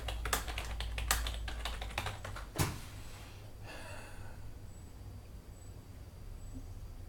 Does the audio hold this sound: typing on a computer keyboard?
yes